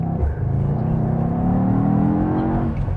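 A Mercedes-AMG GT 63 S with a 630-horsepower bi-turbo engine and all-wheel drive accelerates hard, a loud, steady rising roar heard from inside the car for a few seconds.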